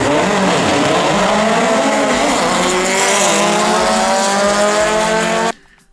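A race car engine screams upward through rising revs, loud and close, before cutting off abruptly at the end.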